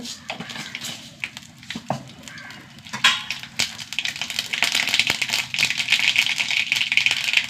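Mustard seeds splutter in hot coconut oil, a dense rattling crackle of quick pops that starts sparse and builds into a loud, continuous spattering close by.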